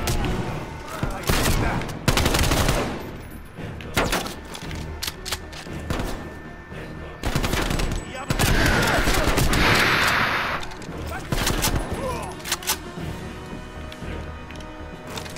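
AK-47 fire in Call of Duty Cold War at the Lubyanka building, with loud close bursts of rapid automatic shots in repeated volleys, thuds and game effects. A voice talks briefly between the bursts.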